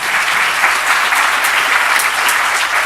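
Dense, steady applause fills the room at a talk, a loud, continuous wash of many hands clapping with no voices standing out.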